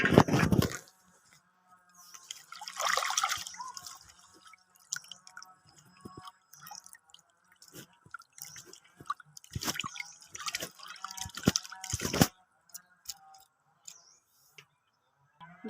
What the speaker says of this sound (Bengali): জল দিয়ে খুব ভালোভাবে হাত দিয়ে কচলে কচলে খুব ভালোভাবে ধুয়ে নেব।